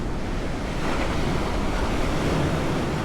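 Water surges and splashes continuously around a boat on the DinoSplash rapids ride at a holiday park, a loud, steady rushing wash with wind buffeting the microphone throughout.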